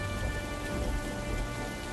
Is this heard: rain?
yes